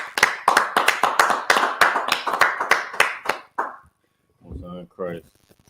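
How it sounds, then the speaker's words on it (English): Roughly twenty sharp, rhythmic claps from a small group at a scripture gathering, which fade out and are followed by brief speech. "let's clap it up"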